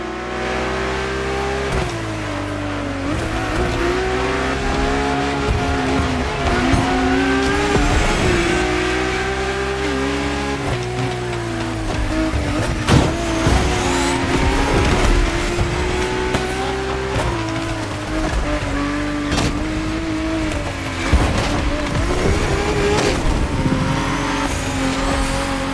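A Lamborghini drift car in The Crew Motorfest roars continuously at high revs, engine pitch rising and falling through gear changes with tire squeal and skidding, loud and close with no talking.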